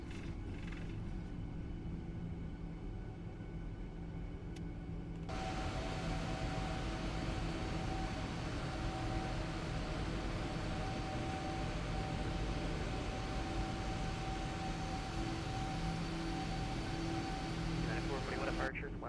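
Airliner engines roar at takeoff thrust through rotation, a dense, steady rumble that swells louder after a few seconds and holds constant, with a faint whine threaded through.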